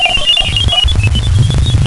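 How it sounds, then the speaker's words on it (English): A Galileo spacecraft recording of strange, computer-like beeping tones, warbling high pitched chirps drifting over a dense low rumbling whir, loud and continuous throughout. "Then comes some stranger computer beeping like sounds."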